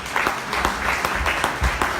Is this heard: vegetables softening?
no